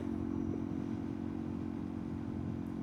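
Motorcycle engine droning steadily while riding on the road, a constant low hum with wind rush, no speech over it.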